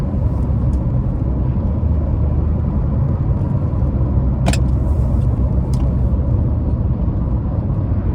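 Steady car interior drone of engine and road rumble while driving, continuous and fairly loud, with a couple of faint brief clicks on top and no talking.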